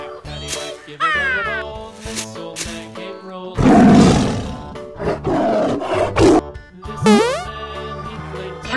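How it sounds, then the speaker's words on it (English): Toy tiger roar effect in a children's learn-colors animal toy setting, with several loud roaring bursts mixed among bright musical sound effects and chimes. "Yellow tiger."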